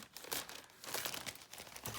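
A shipping package of comic books is unwrapped, and its plastic bags crinkle and crumple close by in quick, uneven rustling bursts with brief tearing sounds. No one speaks.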